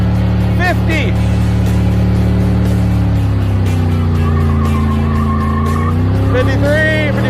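A carbureted V8 hooptie from a rusty project-car build does a burnout, tires squealing in long wavering pitches over a loud, sustained engine roar, with the squeal rising and falling toward the end.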